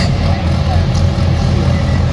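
A pulling truck called the Iron Man, powered by a 6.7 liter Cummins, rumbles with a loud, deep, steady engine drone at close range, with an announcer talking over it.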